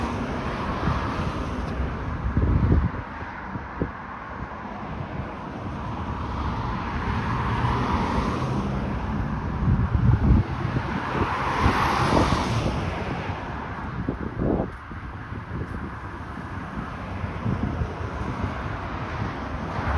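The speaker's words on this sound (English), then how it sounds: "I can hear one coming. But it's a pickup truck. It just has this muffler." Outdoors, a pickup truck with a loud muffler passes by, a broad engine rumble swelling gradually and fading over many seconds, heard from a distance under wind noise.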